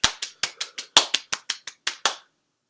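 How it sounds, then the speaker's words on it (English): Around eleven crisp, close handclaps at a quick, even pace, each a sharp isolated smack, then the room goes silent. "Let's give us a round of applause."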